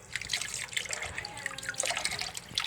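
Washed ingredients for pancit bihon draining in a kitchen sink, with water trickling and dripping steadily throughout at close range, no talk.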